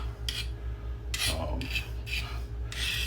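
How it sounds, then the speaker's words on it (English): A knife blade scrapes across the coarse side of a sharpening stone in four or five separate rasping strokes, each about a third of a second, close and fairly quiet over a steady low hum. "knife on the coarse side and kind of grind it down"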